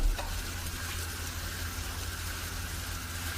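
Shrimp and onion sizzling in a pan, with mushrooms about to join, giving a steady, loud, close frying hiss with no breaks.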